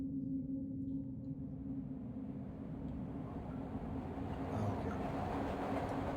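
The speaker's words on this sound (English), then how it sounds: "Train's coming by, so it pauses." A train passes by in the game Broken Sword, a low steady rumble that slowly grows louder and brighter toward the end, with no talk over it.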